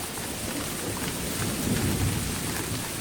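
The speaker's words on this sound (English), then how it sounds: "It's early July in the state of Maharashtra, and the monsoon is breaking." Monsoon thunderstorm over Maharashtra, India, with steady heavy rain hissing continuously and a low rumble of thunder swelling toward the middle, fairly loud and unbroken, with no voices.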